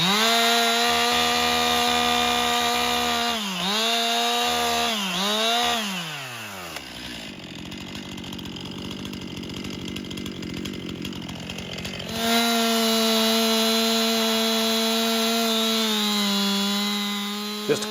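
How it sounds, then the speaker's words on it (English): A chainsaw cuts a tree top loose, its loud close engine running at high revs, dipping twice, then bogging into a long lower-pitched cut before racing back up and holding steady. "I can't reach the top of this tree any other way than sticking the chainsaw out"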